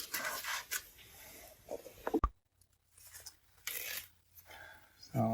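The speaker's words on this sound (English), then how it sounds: "So I'll make sure you can see this here as I unwrap it." A carefully, heavily packed item being unwrapped by hand: soft bursts of crinkling and tearing packing material, quiet and close, broken by a sharp thump and a pause before more rustling.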